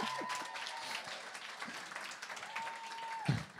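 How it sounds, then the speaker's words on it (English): A church youth audience applauding a late arrival, a soft, distant spatter of clapping that stays low and diffuse throughout, with faint tones and a brief thump near the end. "give a round of applause because Jamie just arrived"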